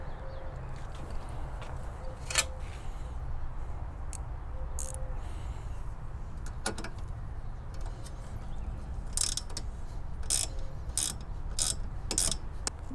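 Bolts being tightened underneath a Lexus GX460 during a transmission cooler install, heard as quiet ratchet clicks in short bursts, with a louder run of clicks near the end against faint background hum.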